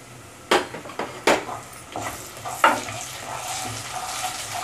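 Cumin seeds fry in hot oil and butter for matar paneer, giving a continuous sizzle with several sharp clanks of a spoon against the pan near the start.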